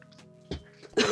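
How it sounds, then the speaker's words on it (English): A person coughs during a junk journal build, a couple of short, close throat clears followed by a sharper, louder cough at the end. "Excuse my cough."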